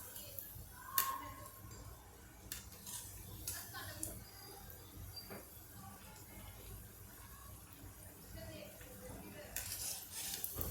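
Bread samosas frying in hot oil give a soft, steady sizzle with faint scraping and clinks of a utensil against the pan, fairly quiet throughout.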